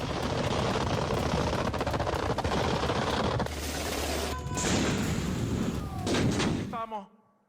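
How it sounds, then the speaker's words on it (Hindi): Venezuelan army artillery cannons fire shells in rapid, dense volleys of blasts that keep coming almost without pause before the sound cuts off at the end. "उस तरफ रुक करके वेनेजुएला की सेना तोप से गोले दाग रही है।"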